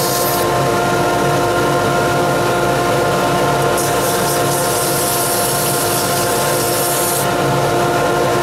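Toy Jeep tires sanded while spinning on a lathe, a steady, loud abrasive rubbing that runs unbroken throughout with a constant machine hum beneath.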